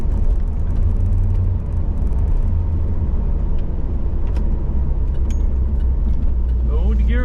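A project Corvette engine runs steadily up close with a constant low rumble throughout, while people talk over it.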